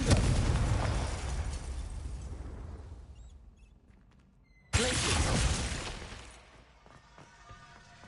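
A Confringo blasting spell explodes in Hogwarts Legacy: a loud burst that fades over a few seconds, then a second sharp explosion with a crackling, debris-like tail.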